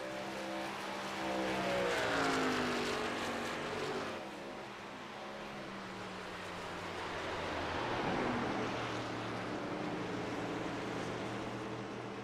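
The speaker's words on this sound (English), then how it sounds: "Dakota Camper sounds like he is coming down pit road now" A SERL series racing truck at Pocono drones steadily down pit road nearby, its pitch rising and falling as it rolls past, with a second engine swelling in partway through.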